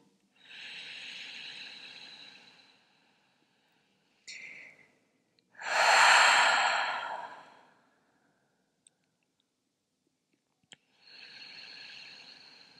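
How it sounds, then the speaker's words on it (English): Slow, deep yoga breaths, close and soft: a long inhale, a short catch, then a fuller, stronger exhale, and another long breath after a pause, with a couple of faint clicks between. "start to release and deepen your breath"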